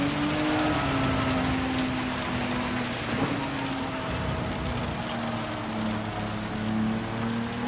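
Heavy rain in Gran Turismo 7 pours in a steady, dense hiss throughout, loud and close, with a low droning tone running underneath and no voices.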